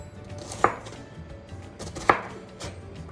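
An onion being chopped with a knife on a cutting board, two crisp close knife strikes about a second and a half apart, with faint rustling between them and no talking.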